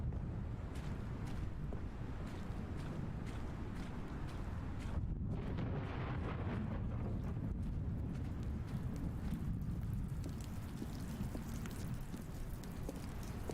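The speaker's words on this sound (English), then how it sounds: "the thunder sounded so nice" Steady, dense rain with low rumbling thunder throughout, heard in The Stanley Parable: Ultra Deluxe video game; a continuous wash of noise with no talking.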